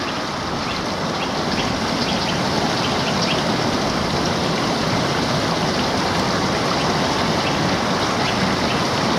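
A trout stream at the edge of a meadow near a pub rushes steadily, a loud broadband wash of flowing water that stays constant throughout with no voices.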